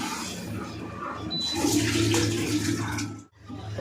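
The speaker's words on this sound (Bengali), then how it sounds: "গরম জলটা দেবো এর মধ্যে।" Hot water is poured into a simmering ilish fish curry with eggplant and potato, a loud rushing pour lasting a couple of seconds before it cuts off.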